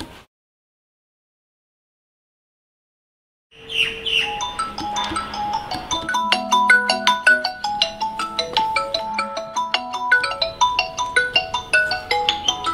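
A phone ringtone starts after a few seconds of silence in a quiet home: a bright, chirpy melody of repeating electronic notes that keeps looping steadily and clearly, with no one talking.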